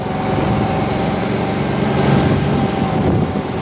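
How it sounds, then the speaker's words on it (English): The engine of a 1967 Unimog 404 truck while driving, a steady loud rumbling drone with a faint whine, continuous throughout and with no voices heard. "that's a Unimog"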